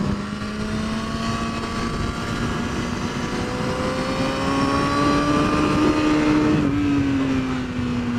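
A 2019 Ducati V4S superbike ridden on a racetrack, its engine giving a steady, loud droning whine that holds one pitch throughout, rising slightly as speed builds, with no voices.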